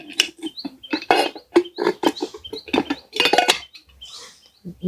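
A lid comes off a pan holding an eggless semolina-and-mango cake, giving clear metallic clinks and clattering scrapes in irregular bursts, close and fairly loud with short quiet gaps between them.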